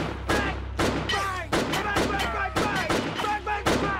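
Gunshots from a film scene ring out as a string of sharp bursts about once a second, layered with harmonic voices of people reacting and talking over the action.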